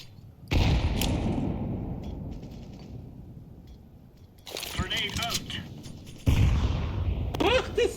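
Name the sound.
grenade and gunfire in video game Counter-Strike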